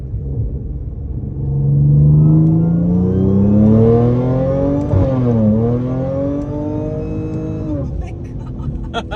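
An Audi S5 accelerates hard, its engine note climbing steadily and then dropping sharply at a quick gear shift before it rises again, loud and close throughout.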